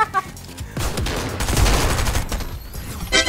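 Rapid bursts of gunfire in a Fortnite match crackle loudly and densely for a few seconds, with short gaps at the start and end.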